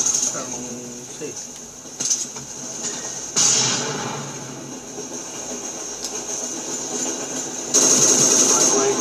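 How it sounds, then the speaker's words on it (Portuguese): A train in the video game Call of Duty: Black Ops 2 rolls past with continuous mechanical rattling and clattering under a steady high whine, growing louder in surges. "Esse trem corta a pista ou ele passa só no finalzão lá?"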